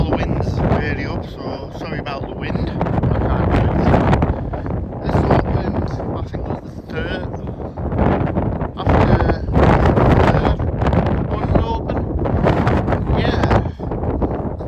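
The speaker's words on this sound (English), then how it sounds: "As you can tell, the wind's really up, so sorry about the wind." Strong wind buffets the microphone on a two-platform railway station platform on the Northumberland line, a loud, constant low roar broken by heavier gusts throughout.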